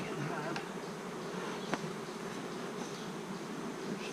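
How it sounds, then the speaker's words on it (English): A dense, constant buzz of many bees around a hive fills the air, close and continuous, with a couple of brief clicks. "These stupid bees back in the hive."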